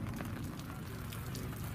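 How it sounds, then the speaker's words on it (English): Rain begins pattering beside a campfire cookout under an umbrella, a light, steady scatter of drops over a low crackling rumble, faint and continuous with no voices. "It's starting to rain"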